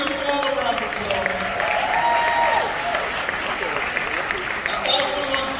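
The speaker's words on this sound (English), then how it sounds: "Let's give them all a round of applause." An audience gives a round of applause at a live morning show event, loud dense clapping filling the whole stretch with crowd noise underneath.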